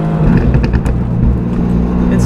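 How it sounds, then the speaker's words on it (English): Mercedes-AMG GT R V8 with a titanium exhaust system and three rear exits, rumbling and revving loudly up close for a couple of seconds, with a voice faintly mixed in. "This runs a titanium exhaust system with three exits on the rear, and it sounds absolutely ludicrous."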